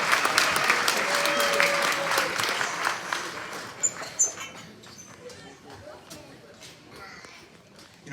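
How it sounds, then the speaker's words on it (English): Pageant audience applause rolls through a hall, loud and full at first, then thinning into scattered claps and a few brief whoops and squeaks as it dies away over several seconds. "let's give them one more round of applause"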